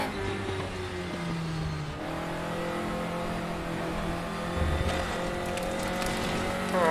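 A race car engine in the RaceRoom racing game revs hard and loud, rising in pitch and dropping with each upshift, several shifts in a row with a steady roar between them.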